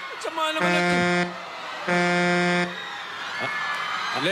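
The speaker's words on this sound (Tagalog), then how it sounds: "Lekat na busina naman niya." Two long, loud horn blasts, each about a second, with a brief pause between, over outdoor background noise and some voices.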